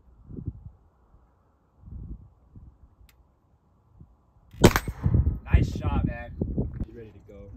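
Single black powder rifle shot ringing off a steel target outdoors at a ranch range, a sharp crack with a metallic clang, followed by people talking nearby.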